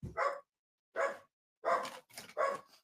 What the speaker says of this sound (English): Your dogs are very excited